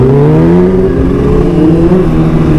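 Motorcycles, including a BMW HP4, cruise through a downtown street, giving a loud, steady engine drone with a smooth, even tone and no talking.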